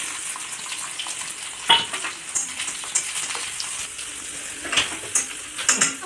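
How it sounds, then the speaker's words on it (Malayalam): Small onions frying in oil in a pan, a steady close sizzle with a few sharper crackles and stirring scrapes, no voices. "ചട്ടിയിൽ എണ്ണ കുഴിച്ചിട്ടുണ്ട് പിന്നെ ഞാനതിൽ ചെറിയ ഉള്ളിയിലാണ് കേട്ടോ വറുത്തിടുക"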